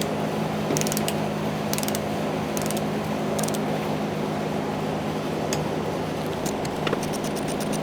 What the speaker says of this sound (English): Now we're going to tighten them up with a torque wrench, 52 inch-pounds.